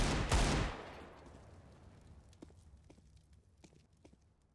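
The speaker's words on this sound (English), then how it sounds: "Laying down some fire" Gunfire in Counter-Strike on the Anubis map: a loud opening burst of shots that decays into a fading rumble, followed by scattered fainter pops and clicks.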